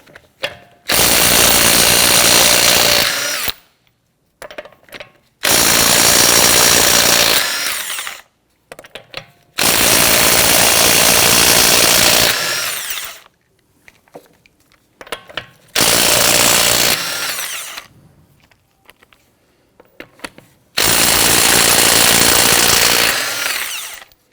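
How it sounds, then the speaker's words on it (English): Pneumatic impact wrench loosening and removing lug nuts with a 21mm socket on a 2017-2020 Hyundai Elantra, loud repeated bursts of rattling hammering, each lasting two to three seconds with short pauses between. "Using a 21mm socket, loosen and remove your lug nuts."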